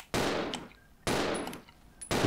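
Pistol shots fired at a zombie in the video game Resident Evil Zero: three loud, sharp reports about a second apart, each with a decaying echo tail, no voices.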